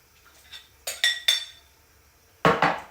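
Cake batter with eggs being mixed in a small cup for a Texas sheet cake, a spoon knocking and clinking against the sides in several sharp taps, a quick cluster early and a louder pair near the end, close and quiet otherwise.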